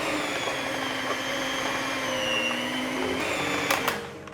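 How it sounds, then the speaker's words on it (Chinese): A mixer kneads bun dough with a steady, loud motor whir and hum that runs without a break, followed by a couple of brief knocks near the end. "面团搅拌至成团后，再继续让它打3到5分钟。"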